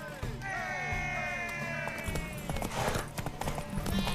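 Horse hooves clip-clop steadily in The Witcher 3: Wild Hunt during a race, close and rhythmic, with shouting voices and other game sounds over them.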